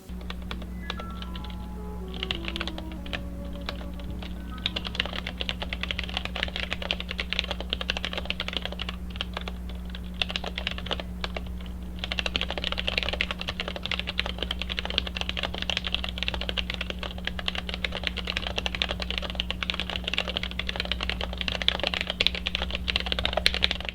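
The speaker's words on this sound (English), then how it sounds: "we can get into the keyboard itself and do a quick sound test." Typing on a DIY mechanical keyboard fitted with stock, unlubed Gateron Milky Yellow switches: a steady, dense stream of close keystroke clacks running throughout, over a constant low electrical hum.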